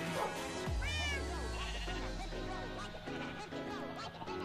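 A parrot imitating a zombie lets out a drawn-out, wavering, bleat-like groan that slides downward in pitch, followed by quieter rough chattering, close and without talk.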